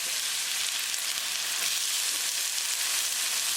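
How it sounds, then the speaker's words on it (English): Onion sautés in olive oil with cumin seeds, making a continuous close hiss of bright, even sizzling with no pauses. "we're going to saute onion until they get transparent"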